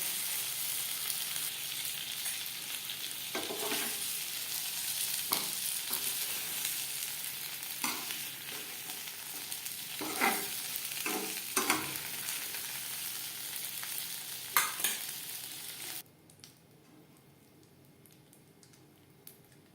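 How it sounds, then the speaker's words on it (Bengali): Pointed gourd (potol) frying in oil in a pan, a steady close sizzle with scattered crackles and pops running throughout, then cutting off abruptly near the end to a quiet background. "পটল বেশ ভালো করে ভাজা হয়ে গেছে"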